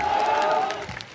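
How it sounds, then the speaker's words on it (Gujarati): Crowd at a Thakor community political rally in Gujarat clapping and cheering together, a dense steady wash of applause with a faint voice over it that thins toward the end. "બે હાથ ઊંચા રાખીને તાળીઓ પાડો, મને ખબર પડે."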